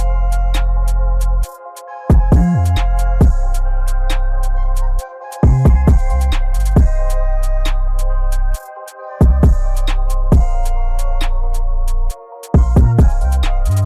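Drill beat made in FL Studio playing back on a loop, with heavy sliding bass, crisp percussion and a melodic layer, cutting out briefly every few seconds before the pattern crashes back in, loud and without vocals.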